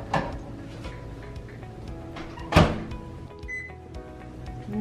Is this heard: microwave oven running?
yes